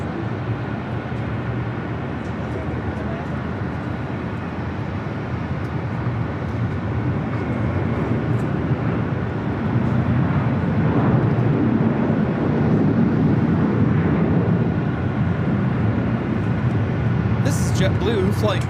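A JetBlue Airbus A321 taking off from LAX, its broad engine roar building steadily and staying loud, with voices talking over it throughout.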